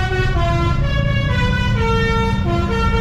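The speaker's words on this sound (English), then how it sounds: "Party bus in Indonesia." A party bus in Indonesia blasts a loud musical horn, a stepping series of melodic tones played over a heavy, rumbling engine, close and continuous.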